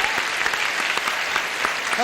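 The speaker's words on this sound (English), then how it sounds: "Let's have a little applause for these ladies." Studio audience applause on the 1973 Match Game pilot game show, a dense, steady burst of many hands clapping that holds for the full two seconds with no talk over it.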